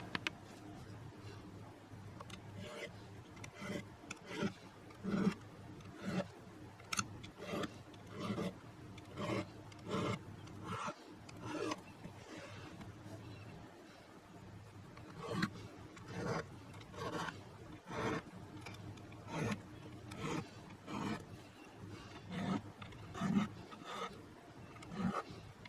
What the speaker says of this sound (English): Let me get my glasses on and we're going to start filing this.